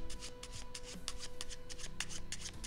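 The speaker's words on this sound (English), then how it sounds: "Now I shuffle them back." Playing cards are shuffled up close during card magic practice, a quick run of soft rhythmic riffling and rubbing strokes over a low steady hum, with no one talking.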